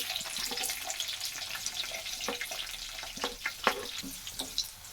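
Onions sizzling in hot oil in a pan with curry leaves and green chillies, steady frying crackle with scattered scraping and stirring clicks close by.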